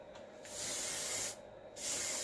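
Hairspray sprayed onto a styled hair piece in a vintage Hollywood updo: two close, steady hissing bursts, the first about a second long, a short pause, then a second burst.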